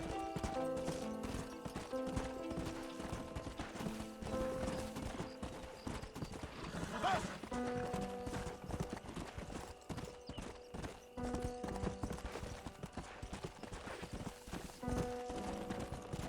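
Hooves clip-clop in a steady, brisk rhythm throughout as a horse is ridden in the Red Dead Redemption video game, with music and ambience underneath and a brief whinny midway.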